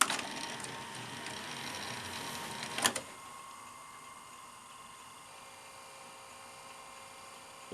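A Sanyo VTC-MH5 Japanese NTSC Beta Hi-Fi video recorder loads a tape and starts playback: a steady mechanical whir and hum, a brief clunk near the middle, then a quieter constant motor hum.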